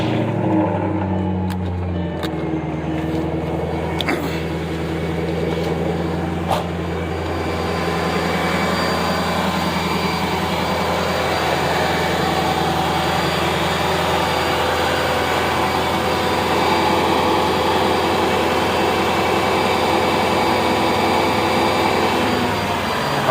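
A Mercedes-Benz CL500 engine cranks and starts, then settles into a steady, loud idle with a constant whirring hum, close up and with no talking.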